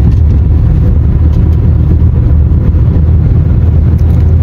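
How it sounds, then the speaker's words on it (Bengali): A fishing trawler's engine gives a loud, steady, low rumbling drone near the coast, continuous with no clear change in level. "এই যে ট্রলারটা আসছে"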